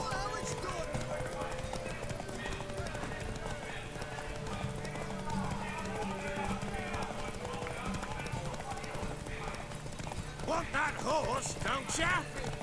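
Horse hooves clip-clop through a gallop in The Witcher 3, a steady rhythmic pounding under game music with a whinny near the end, while a voice talks over it.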